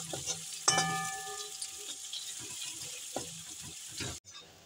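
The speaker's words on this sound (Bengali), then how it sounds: "রসুনটাও হালকা ভাজা হয়ে গেছে।" Chopped garlic frying in oil, a continuous close sizzle with scattered stirring clicks and scrapes, cut off abruptly just before the end.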